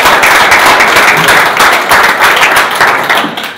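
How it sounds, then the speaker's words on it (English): Audience at a boxing press conference claps in a dense, loud burst of applause that stays steady for a few seconds and then begins to taper off. "Big round of applause."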